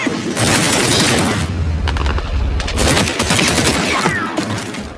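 A gunfire shootout in the action film Seized erupts in dense, overlapping bursts of shots and booms, loud and chaotic, with a heavy low rumble underneath.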